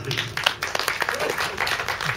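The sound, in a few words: audience applause for a singer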